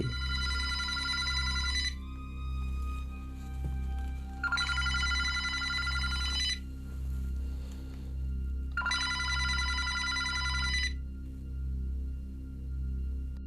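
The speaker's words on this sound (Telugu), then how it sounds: "ఇంకో రూమ్లో ఉన్న ఫోన్ రింగ్ అవుతుంది" A telephone rings in another room in bursts of electronic trilling separated by pauses, three rings over a steady low hum, moderately distant.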